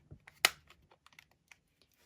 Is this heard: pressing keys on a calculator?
yes